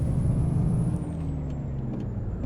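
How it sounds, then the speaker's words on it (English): A truck's air brake releases its pressure when the parking brake comes off in American Truck Simulator, a loud hiss over the idling engine that fades slightly as the rumble continues alone. "Did you hear the brake pressure release then off the handbrake? Off the parking brake?"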